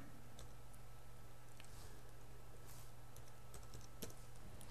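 Faint, scattered key clicks on a computer keyboard as a URL is typed, quiet and irregular over a low steady hum.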